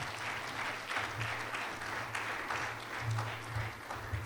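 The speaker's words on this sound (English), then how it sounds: "Another round of applause for him" Audience applause at a closing ceremony, steady and sustained from a room full of people, with a low hum running underneath and no voices cutting through.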